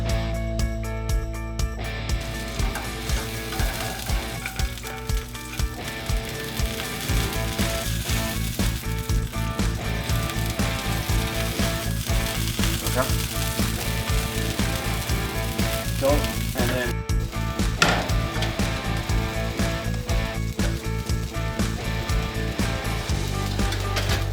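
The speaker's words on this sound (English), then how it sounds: "In the pan, we're going to saute the sausage at medium-high to medium-low heat for about 10 minutes." Cajun boudin sausage sautes in a pan over medium heat, giving a steady dense sizzle and crackle that runs through the whole stretch, close and fairly loud, with no talking.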